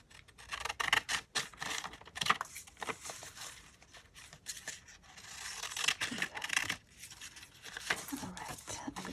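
Scissors snip through a sheet of checkered paper with repeated quick cuts and rustling handling of the paper, close and fairly quiet, while a person talks in between.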